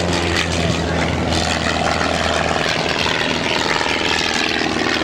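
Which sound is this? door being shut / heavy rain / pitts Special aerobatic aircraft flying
pitts Special aerobatic aircraft flying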